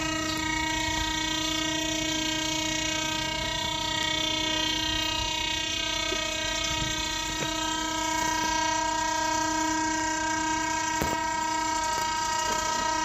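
A train to Bangkok, Thailand, rumbles steadily with a sustained horn-like drone throughout, loud and continuous, with occasional sharp clanks.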